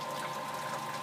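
Home-brew pump recirculating wort in a whirlpool, giving a constant close wash of swirling liquid with a steady mechanical hum underneath.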